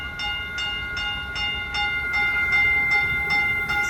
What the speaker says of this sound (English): It's a Stadler EMU